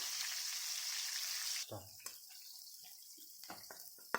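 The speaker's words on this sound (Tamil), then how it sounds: "திருப்பி போட்டு ஒரு 2 மினிட்ஸ் ஃப்ரை பண்ணிக்கலாம்." Chicken pieces fry in a pan for butter chicken, giving a bright, steady hiss that drops off abruptly, followed by soft scraping and clinking as the pieces are turned.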